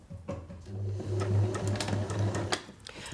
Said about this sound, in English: run it around your sewing machine